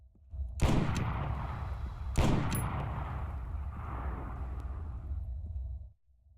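Two heavy sniper rifle shots from the M320 LRR in Arma 3, spaced about a second and a half apart, each a loud blast followed by a long rumbling echo that fades out.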